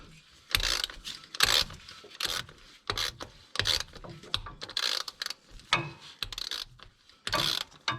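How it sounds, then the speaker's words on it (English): An oil filter wrench working on the oil filter of a Toyota Tacoma, giving repeated close scraping, ratcheting and rubbing bursts in an irregular rhythm, with no talk. "Use our oil filter wrench."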